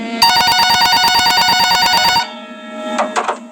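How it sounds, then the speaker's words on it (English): A loud telephone bell rings in a rapid, rattling burst for about two seconds, then stops, followed by a few faint clicks. "the phone on the counter rang."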